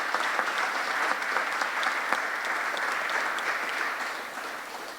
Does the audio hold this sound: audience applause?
yes